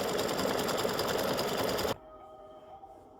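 An embroidery machine stitches around a flip-flop with a fast, steady, dense whirring buzz that runs continuously, then stops abruptly, leaving a quiet hum behind.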